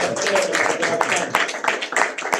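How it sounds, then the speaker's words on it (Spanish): Audience applause for workshop leaders at a church gathering: a steady patter of many hands clapping at close range, with voices mixed into the clapping throughout. "a ver si le damos un aplauso a los talleristas"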